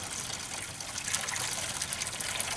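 A hall bathroom toilet with reconfigured pipes flushes, a loud continuous rush of gushing water that runs steadily throughout.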